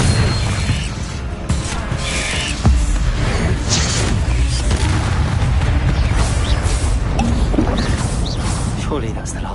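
Booming fire-blast spell explosions in Hogwarts Legacy crash through a dense, loud combat mix, with repeated blasts under game voices and music throughout.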